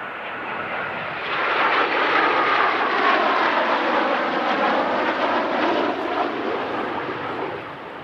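Two Eurofighter Typhoon jets make a missing man flypast at the Midlands Air Festival 2024, a loud broadband roar that builds from the right, holds powerfully overhead and then begins to fade.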